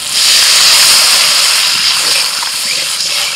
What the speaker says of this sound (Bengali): এবার জল ছেড়ে দিচ্ছি।